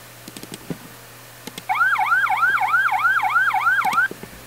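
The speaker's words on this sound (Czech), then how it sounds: "užijte si ty nové sirény" Emergency vehicle sirens from a video game siren mod wail in a rapid, repeating up-and-down yelp for a few seconds, loud and close, after some faint clicks, with no speech.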